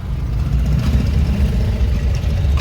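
A car engine drones and hums at a steady low pitch with slight rises during a driving lesson in traffic, close and continuous with no talking over it.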